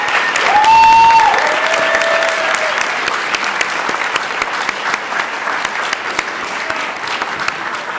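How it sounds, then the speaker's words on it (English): A crowd at a Martin Luther King Jr. Day writing awards event applauds loudly and continuously for about eight seconds, with a brief whistle near the start and faint voices mixed in. "I would like to give one more round of applause to all the performers and readers"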